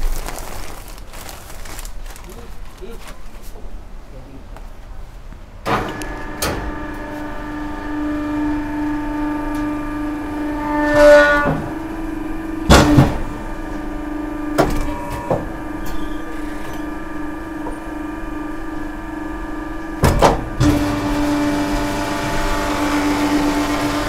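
A vacuum packing machine compresses a cushion filler pillow at a furniture market. A motor hum starts partway through, under crinkling plastic and several sharp clunks.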